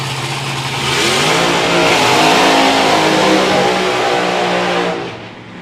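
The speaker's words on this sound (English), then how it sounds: "that's a small dragster, that's an enormous engine" A small dragster with an enormous blown engine revs hard at a drag racing event, a loud rough roar that swells, holds near full throttle for several seconds, then fades.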